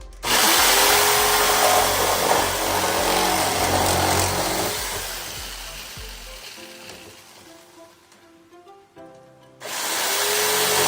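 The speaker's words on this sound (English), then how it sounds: "Another way you can cut out the pieces you don't need is with the jigsaw." A jigsaw cuts through a garage floor tile with a loud, harsh buzzing rasp that stops, fades through slower chopping strokes and a pause, then starts again at full volume.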